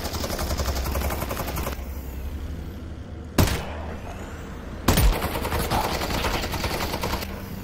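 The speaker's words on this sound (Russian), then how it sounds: "Я хочу ему в грену выстрелить просто." Gunshots in the VR shooter Half-Life: Alyx, two loud sharp reports a second and a half apart over a steady game background hum, with no talking during the shots.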